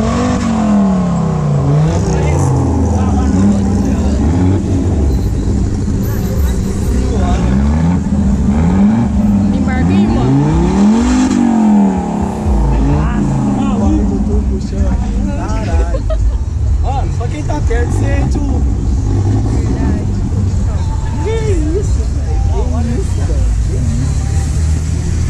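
A car engine idles loudly and revs up and down repeatedly, rising and falling pitch, with voices talking over the rumble.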